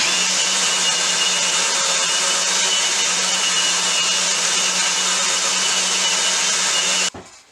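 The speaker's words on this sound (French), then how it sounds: "Alors, ma planche, ça y est, elle est terminée de poncer." A cherry wood cutting board being sanded gives a loud, steady, unbroken abrasive roar that runs for about seven seconds before cutting off abruptly near the end.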